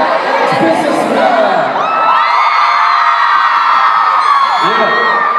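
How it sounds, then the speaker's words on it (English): A concert crowd at a K-pop showcase in Dallas, Texas screams and cheers loudly and without a break. Many high-pitched voices shriek and whoop together in a dense, sustained roar that fills the venue. "Let's scream it all out."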